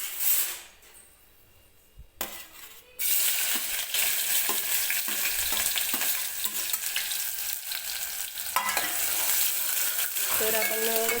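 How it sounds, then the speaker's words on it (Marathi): Chopped onion drops into hot oil for a chicken rassa, and after a brief quiet start a loud, constant sizzle erupts and continues, with light scraping from stirring in the pan. "सुरुवातीला मी टाकून घेते कांदा."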